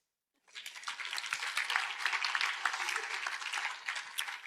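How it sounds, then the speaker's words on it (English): An audience at a self-image presentation bursts into dense, sustained applause after a brief silence; many hands clap steadily at a soft, somewhat distant level for about four seconds. "Round of applause."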